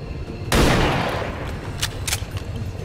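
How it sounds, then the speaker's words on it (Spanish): A single loud gunshot blast fired in the video game XCOM 2 Long War 2, with a sharp onset and a long, decaying tail, followed by a few faint high clicks. "voy a intentar un disparo de fortuna"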